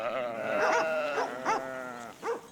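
Sheep in a flock guarded by livestock dogs bleat several times in wavering calls, fairly close, with a steady background hum and no speech.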